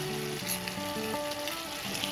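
Potato gravy with green chilli and salt sautés in a pan, making a steady, close frying sizzle.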